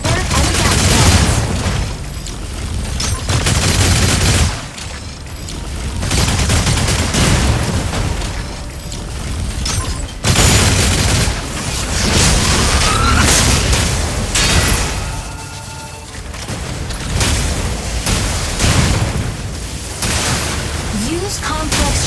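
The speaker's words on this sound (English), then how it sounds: "Continue to attack with battle halberd and gas cannons." Mech combat in Mecha BREAK, with gas cannons and battle halberd strikes delivered as a dense, loud barrage of booming blasts and bursts. The impacts run almost continuously, with brief dips, under game voice lines.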